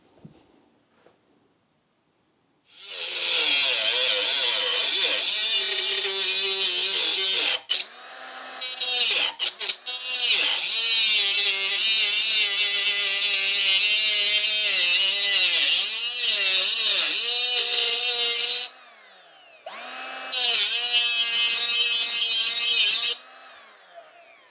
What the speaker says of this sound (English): Let's use the grinder.